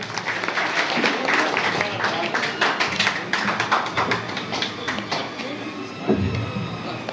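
A crowd applauds at an outdoor political honouring ceremony, with steady, dense clapping throughout, heard alongside an amplified voice and background noise.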